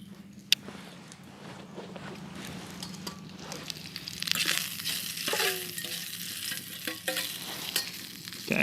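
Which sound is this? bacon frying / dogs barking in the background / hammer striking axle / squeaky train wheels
bacon frying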